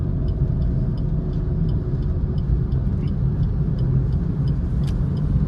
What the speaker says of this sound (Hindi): एक्सीलेटर देना होगा थर्ड गियर में, दीजिए एक्सीलेटर